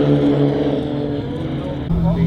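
Formula Vee race cars at Bishopscourt circuit roar past in a steady, loud engine drone with a sharper change near the end, under continuous race commentary.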